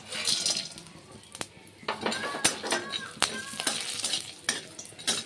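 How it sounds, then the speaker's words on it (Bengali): Bori, lentil dumplings, fry in oil in a pan with sajne flowers, giving a soft sizzle under repeated clinks and scrapes of a spatula against the pan. "তাই আমি এখানটায় কিছুটা বড়ি দিয়ে ভেজে নেব"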